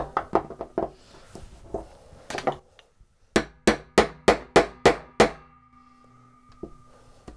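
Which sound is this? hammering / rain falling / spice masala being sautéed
hammering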